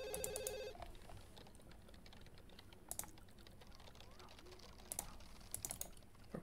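A telephone rings in The Sims 2 University, its short electronic trill opening the clip over quiet keyboard typing and game ambience.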